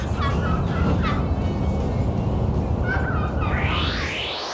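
A turkey hen is imitated with a mouth call, producing a short series of raspy, close yelps in uneven groups over a steady background hiss, ending in a drawn-out rising note.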